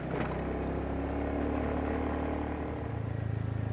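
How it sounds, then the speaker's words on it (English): A songthaew pickup truck taxi on Koh Samet island passes with a continuous loud engine drone and road rumble, fairly near and steady throughout. "And then this is a Song Tao coming along."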